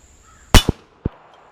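Three sharp pistol shots from a Remington RM380 fired one-handed: a loud crack followed quickly by a second, then a third after a short pause, ringing out alone.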